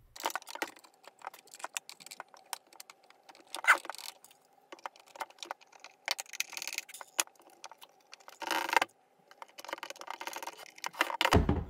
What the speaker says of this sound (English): So I'll put these screws in, connect the top to the bottom